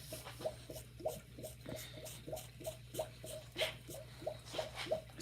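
A small spray bottle of plain water squirts in quick, steady succession, about sixteen soft, wet puffs in five seconds, close by and fairly faint.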